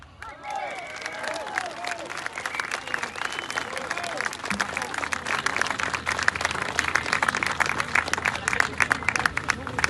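Sustained crowd applause fills a French political rally for Les Patriotes, dense clapping spread through the room, steady and fairly loud from start to finish with scattered voices mixed in.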